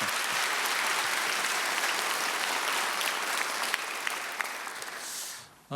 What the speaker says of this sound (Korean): 여러분 박수 한번 더 보내주시면 고맙겠습니다